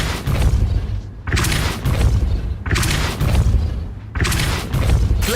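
Spell effects from the Hogwarts Legacy video game, including Depulso, land as four heavy booming impacts, each followed by a rolling rumble, loud and close.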